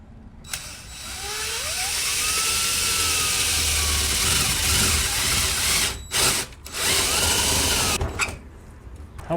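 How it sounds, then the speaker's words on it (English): Power drill boring holes through the aluminum skin of an RV conversion trailer, a close, loud whine that rises in pitch as the bit spins up, runs steadily and cuts out in a few brief gaps near the end. "I just don't want to be drilling through like our pretty aluminum on the outside or something."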